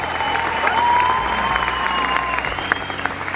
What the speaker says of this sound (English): How about one more big round of applause for your 2019 Factor Jam Award recipients.